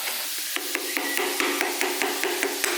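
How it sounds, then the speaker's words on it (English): A piston hammer taps on parts of a stroker RB28 engine bottom end during assembly, about a dozen quick, evenly spaced, sharp knocks up close. "this is literally a piston hammer"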